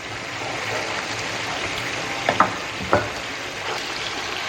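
Spices with garam masala sizzle steadily in a pan for salmon butter masala, a soft constant frying hiss broken by a few brief clinks or stirs.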